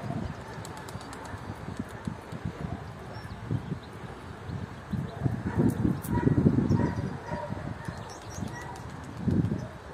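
Tumbler pigeons take off outdoors with repeated bursts of flapping wings, the flutter growing louder in the middle and flaring again near the end over a busy background.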